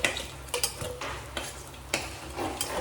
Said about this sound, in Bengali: তো এই যে মাছটা আমি নামিয়ে নিচ্ছি এই যে গামলাটার মধ্যে